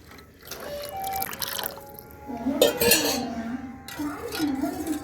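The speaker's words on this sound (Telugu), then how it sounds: "ఇప్పుడు నీళ్ళు వేసుకుందామండి" Water is poured into a cooking pot of salted rice for khuska, giving splashing, trickling bursts close by while a person talks over it.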